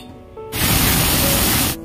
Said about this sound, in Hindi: हमारी सीटी आ चुकी है और मैं गैस की फ्लेम को बंद कर रही हूँ।